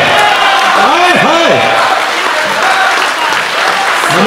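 A kavi sammelan poetry recital audience claps loudly in a dense, sustained burst while voices rise over the applause with whoops and exclamations.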